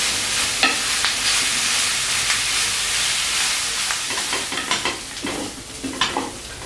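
Onions sautéing in a pan for Japanese curry, a steady sizzling hiss broken by repeated scraping and clacking strokes of a spatula that grow busier toward the end, close and clear.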